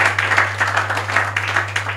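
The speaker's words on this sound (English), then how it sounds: "Can we clap for them in Jesus' mighty name?" A church congregation claps for newly named elders and deacons, a steady patter of hands over a low constant hum, with a few voices mixed in.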